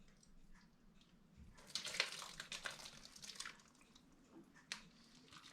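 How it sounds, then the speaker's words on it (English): Boiling water poured from a height into a pot of stuffed grape vine leaves (dolmas), a splashing, gurgling burst of a few seconds that rises sharply then trails off into faint drips, fairly quiet and close. "So we add 2 cups of boiling water."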